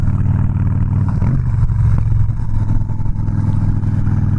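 A Harley-Davidson Softail Slim with a 103ci engine accelerates hard, its deep, loud rumble close and continuous as the revs climb steadily with no voices over it.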